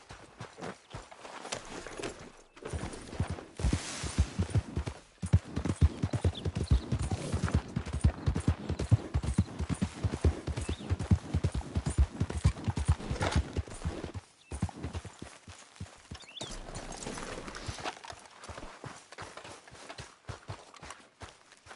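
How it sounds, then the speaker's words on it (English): Horse hooves clip-clopping at a gallop in the Western video game Red Dead, a steady rapid rhythm running close and loud for most of the stretch, with music or game ambience underneath. "Horse!"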